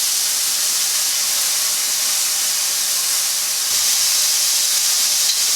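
Minced shallot and mushrooms sizzle in a pan, heard as a loud, broad hiss that holds steady and grows slightly stronger partway through, with no voices.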